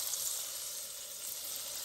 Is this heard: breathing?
no